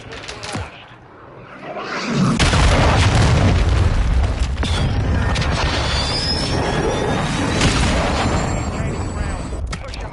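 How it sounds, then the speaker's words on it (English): A heavy cruise missile blast in Modern Warfare 2 gameplay lands as a deep, loud boom after a quieter opening, followed by sustained rumbling battle noise with scattered gunfire and whistling streaks, with game voices over it. "Hostile cruise missile launched."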